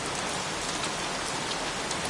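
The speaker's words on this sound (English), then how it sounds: "Goddamn rain. Soaking wet." Steady heavy rain pours down in the video game Heavy Rain, a dense, even hiss of drops striking surfaces close by, with no pauses or voices.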